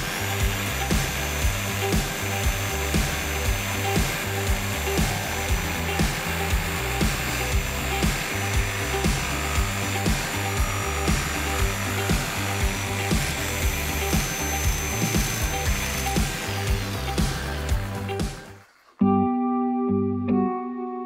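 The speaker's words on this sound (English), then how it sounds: "I'm gonna do a combination of turning the jigsaw and rotating the workpiece to get around this curve" A jigsaw cuts a curved line through a wooden workpiece: a steady, close motor whine with a fast rhythmic chatter of the blade, running continuously before cutting off abruptly near the end.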